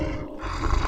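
A lion roar sound effect: a short, loud, deep growling roar heard on its own, with no talking over it.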